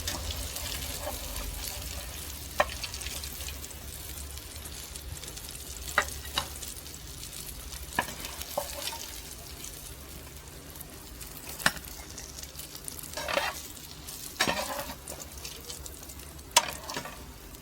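Browned, golden meatballs fry in a pan with a continuous quiet sizzle, broken by occasional clinks and scrapes of a utensil turning them, close up and without talking throughout.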